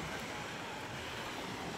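Rough morning sea surges steadily in an unbroken wash of surf, with wind buffeting the microphone. The noise is dense and continuous, with no voices.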